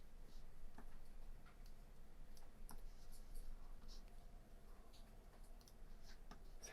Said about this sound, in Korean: 마스크라고 타이핑을 치겠습니다.